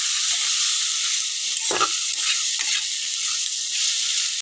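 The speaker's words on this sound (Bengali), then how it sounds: "বন্ধুরা দেখুন মশলাটা ভালো করে কষিয়ে নিচ্ছি" Spice paste of turmeric, ground coriander and cumin with a splash of water fries in a pan for a mourala fish dish, giving a loud, steady close-up sizzle with a few soft stirring scrapes and no talking.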